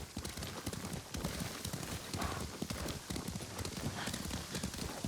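Steady galloping horse hooves from the video game Ghost of Tsushima clop in a fast, continuous rhythm, close and fairly loud, with no voices over them.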